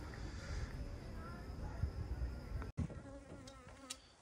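Dense, continuous buzzing of many bees close by in a barn, with a brief cut partway through before the swarm hum resumes.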